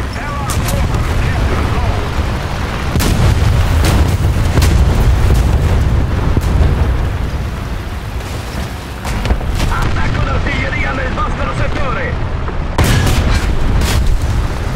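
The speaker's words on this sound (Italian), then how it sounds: "Attacco d'artiglieria nel vostro settore." Artillery shells exploding in a tank video game featuring an Italian M4A4 Sherman, a loud run of heavy booms and blasts in quick succession, with a brief lull midway before more impacts.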